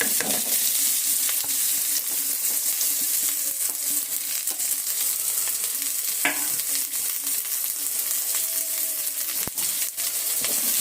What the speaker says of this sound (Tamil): நல்லா பொரியுது. இப்போ வெங்காயம் போடுறோம்.